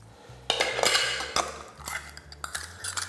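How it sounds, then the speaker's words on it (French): A knife is worked into scallop shells to pry them open, giving close clinks and scrapes of a metal blade against shell, with a sharp knock and a few clatters over a low background hum. "je glisse mon couteau le long de la coquille supérieure"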